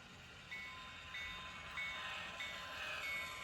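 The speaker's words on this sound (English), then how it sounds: "Our train's coming around the mountain." A model train rolls around a model railroad layout, a faint, steady rumble of running wheels with thin, repeated high whistle-like tones sounding at intervals, no voices over it.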